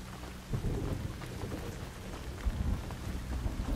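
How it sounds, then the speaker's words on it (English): Steady rain pours down with low thunder rumbling through a storm in the survival video game Once Human, loud and continuous with no voices over it. "Sounds like it's raining, so that's fine."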